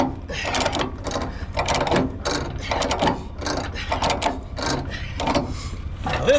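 A ratchet chain binder being cranked tight on a truck's load chain gives repeated mechanical clicks in steady bursts, close by, with chain clatter mixed in and someone talking briefly.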